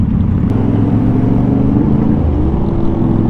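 Harley-Davidson 750 motorcycle exhaust at a motor show, a loud, steady low rumble close to the microphone with a deep throbbing idle and slight wind buffeting, no voices.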